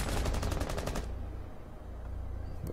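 Enemy machine-gun fire in Rainbow Six Siege Terrorist Hunt on the Hereford Base map: a fast, loud burst of rapid shots lasting about a second, then fading into rumbling background noise.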